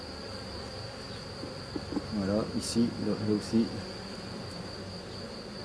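Honeybees buzzing steadily around an opened hive with wax bridges between the frames, a thin continuous hum beneath someone speaking briefly.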